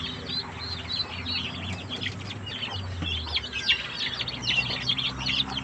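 Ten young turkey poults kept as backyard chicks cheep in a dense, overlapping chorus of high, thin peeps, steady and close throughout, over a low background hum.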